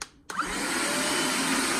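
A powerful 8500Pa cordless handheld vacuum cleaner switches on after a brief moment of quiet. It then runs with a steady, close, continuous whine and whoosh.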